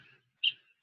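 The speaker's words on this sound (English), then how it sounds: "Red-crowned woodpecker." A red-crowned woodpecker in Panama gives a single short, sharp call note, clear and fairly close, following a faint earlier trace of sound, with no talk.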